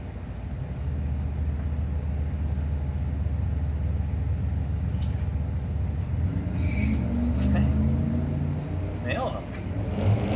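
An 86 Firebird and a 94 Camaro at a street-nights drag strip, engines rumbling and revving loud and steady throughout, with announcer-style talk over the top.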